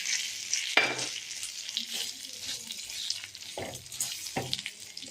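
Semolina is stirred in sizzling ghee with cashews, raisins, cardamom and bay leaf, giving a steady soft frying hiss. Several scraping spoon strokes cut through it at irregular intervals, close by and fairly quiet.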